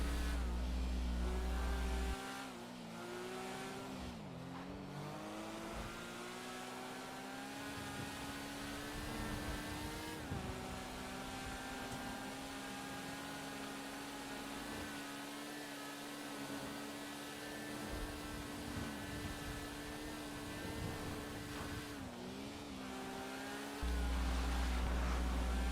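A car engine drones continuously through a GTA V Online point-to-point race, its pitch rising and dipping with gear shifts and acceleration, fairly faint and steady throughout with no talk.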